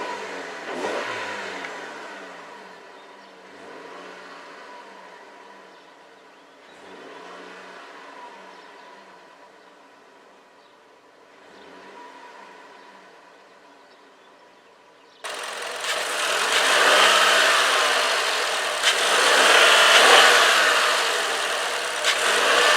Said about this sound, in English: So let's give it a couple revs.